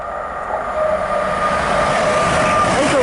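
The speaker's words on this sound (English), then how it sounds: "An LNER service from Leeds to London King's Cross." An LNER passenger train from Leeds to London King's Cross passes through Grantham on the East Coast Main Line, a steady rising roar of wheels and rails with a thin high whine, loud and close.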